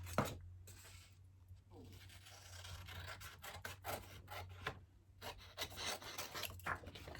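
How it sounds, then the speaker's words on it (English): Scissors snipping through a folded paper shipping label close by, a quick run of crisp rustling cuts and handling noises. "And now I'm just going to cut it out so that it fits better onto the baggie."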